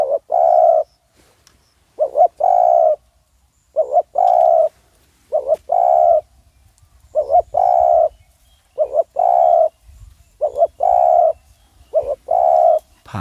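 A decoy spotted dove calls wild doves with loud, close cooing phrases repeated in a steady rhythm, roughly a dozen coos with short quiet gaps between them outdoors.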